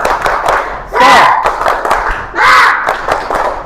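Classroom of Indonesian fourth-grade children standing to perform a rhythmic spirit clap, sharp hand claps in a steady beat with two bursts of loud group shouting, voices mixed throughout.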